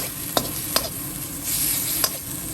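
Chili paste for an olive chili dip with grilled fish being stir-fried over medium heat, a soft continuous sizzle broken by three sharp utensil taps against the pan.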